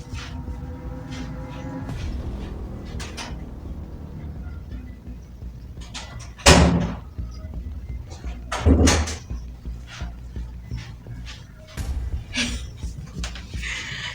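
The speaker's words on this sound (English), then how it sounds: "you hear the sounds of doors opening, closing, doors opening, closing in your house" Doors opening and closing inside a quiet house: two sharp, fairly close knocks or bumps about two seconds apart stand out above a low room hum, with faint rustles and small clicks around them and no talk.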